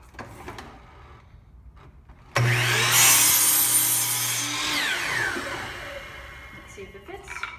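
A handsaw cuts through wood while building DIY canvas stretchers: quiet handling, then a sudden loud rasping stretch of sawing strokes with a droning tone that slowly fades, followed by light clatter.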